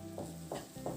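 Spatula stirring fried potatoes and pointed gourd in a spice masala in a pan, three soft scraping strokes over a low sizzle, close and fairly quiet.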